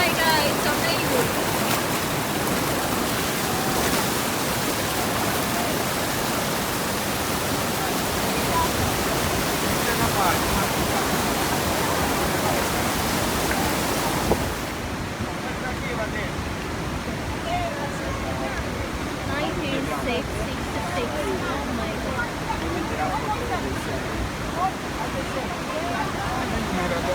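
Kalandula waterfall in Malanje, Angola, roars as a steady, dense wash of falling water, loud and continuous throughout, with the sound softening and dulling partway through as if heard from a different spot.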